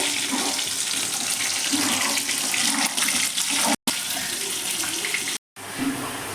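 Water pours steadily into a cooking pot and splashes for several seconds, a continuous rushing stream broken by two brief silent gaps.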